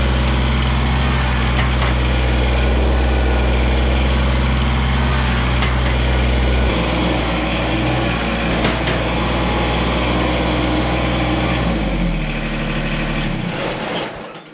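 A Kubota BX compact tractor engine runs steadily and loud, driving up a ramp with rear suitcase weights fitted; the drone holds level, then the pitch shifts partway through and the engine cuts off at the end.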